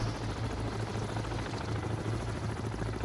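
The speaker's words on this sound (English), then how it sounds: "The little helicopter." A small helicopter hovers in place in a video game, giving a steady, continuous low rotor drone with a broad noisy wash that stays even and fairly loud throughout.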